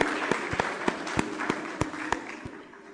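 Audience applause at a university publishing forum in Mexico, a steady wash of clapping from a moderate-sized crowd with a few sharper individual claps standing out, fading slightly toward the end.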